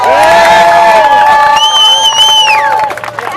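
Protest crowd at Queens Park in Toronto cheering loudly, with whoops and shouting voices over a broad roar, fading slightly toward the end.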